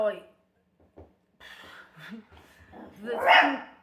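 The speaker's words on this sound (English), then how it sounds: "that's my mum's dog" Indoors, a pet dog lets out a short, loud bark near the end, along with brief voice sounds and quiet pauses before it.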